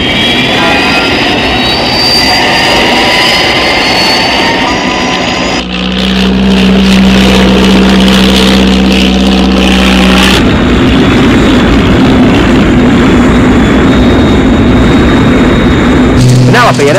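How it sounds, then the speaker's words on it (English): Thunderbird aircraft jet engines open up, a loud, close, continuous roar with shifting tonal whines that holds for the whole stretch. "As soon as you touch down, I'll open up with my jets."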